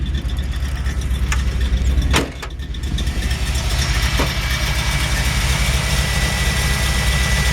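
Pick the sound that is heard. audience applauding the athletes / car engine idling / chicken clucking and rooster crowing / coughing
car engine idling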